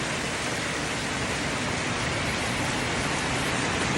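Heavy rain pours steadily around a nipa hut during flooding, a dense, loud, unbroken hiss of water with no breaks and no voices.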